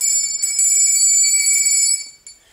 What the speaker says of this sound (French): La sonnette, c'est plus maniable.